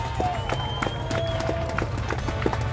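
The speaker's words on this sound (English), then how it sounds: "Let's give them a nice round of applause." Scattered applause from a street crowd at the 2018 Lincoln Veterans Parade as American Legion groups and riders pass by. The claps are irregular and moderately near, and a low hum of traffic runs underneath.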